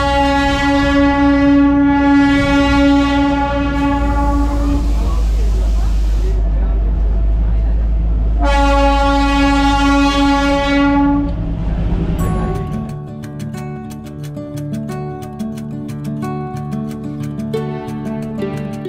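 The Darjeeling toy train, leaving the hill town of Kurseong, sounds two long, loud, blaring horn blasts over a low engine rumble. Melodic tonal sound then takes over as the train noise fades.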